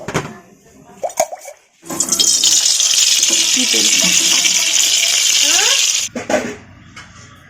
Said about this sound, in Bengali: এখন জল দিয়ে ধোয়া লাগবে